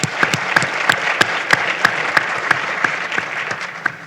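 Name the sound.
audience applause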